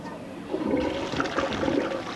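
Toilet flush recorded inside a toilet, a steady rushing gush of water with gurgling swirls that holds at moderate loudness throughout, with no voices.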